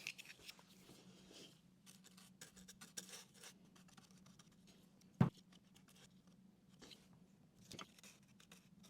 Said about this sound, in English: I'll be cutting the bristles about halfway because they're too long